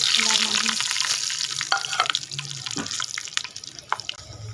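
Steady broadband hiss and crackle of spices sizzling in hot ghee, with scattered pops and clinks, fairly close and continuous throughout.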